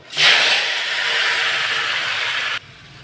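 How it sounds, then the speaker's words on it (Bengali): Boiled taro and potatoes hit hot oil in a pan with a sudden loud, steady hissing sizzle that lasts a little over two seconds, then cuts off to a quiet background. "তো দেখছো কচু আলু আমি ভালো করে সিদ্ধ করে নিয়ে নিয়েছি। তো এখন দিয়ে দেবো তেলের মধ্যে।"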